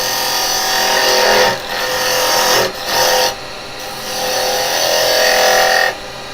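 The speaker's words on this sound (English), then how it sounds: "Right, put a tenon on." A wood lathe turns while a carbide chisel cuts a tenon on a handle, giving a steady scraping whir in several bursts separated by brief pauses, loud and close with no talking.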